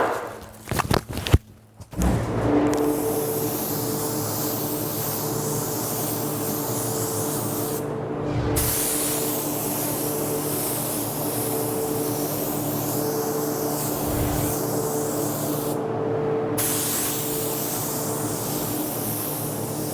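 A paint spray gun hissing continuously up close as it sprays Orion SilverMax, a steady loud spray with a compressor hum underneath and two brief pauses.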